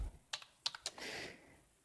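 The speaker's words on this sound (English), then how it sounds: "So you type that number here." A few quick keystrokes on a computer keyboard, close and quiet, are followed by a soft lingering rustle.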